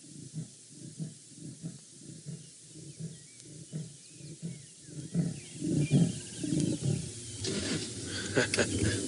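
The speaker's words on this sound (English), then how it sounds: "Wonderful, another roar from the leopard." Leopard roaring on a wildlife drive, a series of deep rhythmic sawing grunts repeating steadily and growing louder toward the end, with some rustling noise near the close.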